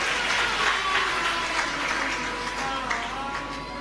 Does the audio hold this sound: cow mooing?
no